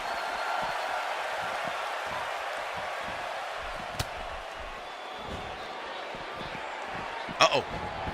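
A wrestling arena crowd in the NCW game roars in a steady wash of cheering before a tag team match, with a sharp slam partway through and a few distinct thuds near the end.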